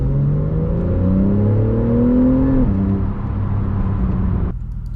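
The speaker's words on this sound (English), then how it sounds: "you hear the sound of the car." A Porsche 911 S of the 991.2 generation accelerates hard, its engine note climbing steadily in pitch through a gear before a shift, then dropping back as it settles; loud, close and continuous with no talk.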